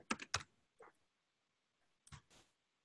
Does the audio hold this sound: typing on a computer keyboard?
yes